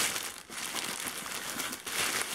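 Plastic packaging crinkles and rustles continuously and close up while a parcel from China, ordered from AliExpress and holding bicycle parts, is unwrapped, with no voices over the noise.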